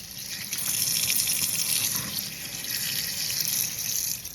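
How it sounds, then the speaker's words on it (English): Cold tap water runs steadily into a sink as jalapenos are rinsed, a close, continuous hissing splash lasting a few seconds with no speech. "now I'm just going to rinse these off in cold water"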